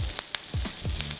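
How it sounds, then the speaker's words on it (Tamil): Curry leaves and chana dal frying in a pan, a close, moderate sizzle with quick crackles and a few soft stirring scrapes, brief and without voices. "ஸோ இது எல்லாத்தையும் நல்லா வறுத்துக்குவோம். ஓரளவுக்கு செவக்க வறுக்கணும்,"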